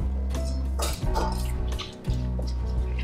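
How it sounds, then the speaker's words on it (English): Water is poured from close by into a chimichurri sauce of herbs, garlic and vinegar, a loud running splash with trickling drips that briefly stops midway before the pour resumes. "we want to add some water, just a little bit"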